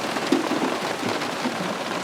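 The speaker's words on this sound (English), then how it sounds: "Man, the rain is blowing around." Windblown rain beating on a van with its rear hatch open, a loud dense continuous patter and hiss with no pauses.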